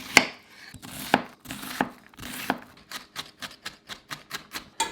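Knife chopping kale on a cutting board, a series of crisp, close thuds, irregular at first and then settling into a quick, even rhythm of a dozen or so cuts.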